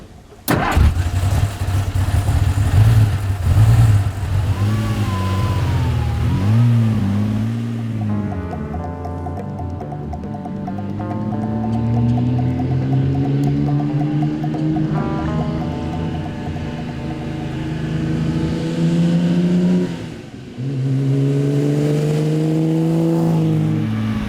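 A vintage race car, a Scarab Mk I or Maserati A6GCS, cranks on its starter and catches, then its engine rises and falls in repeated revs, loud and close, with a short lull before revving again.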